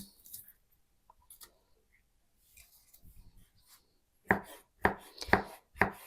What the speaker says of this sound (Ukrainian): Перець нарізаємо дрібненько, як вам там буде зручно.